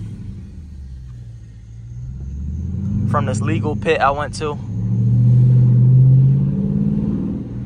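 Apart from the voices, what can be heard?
Dodge Charger RT revving while drifting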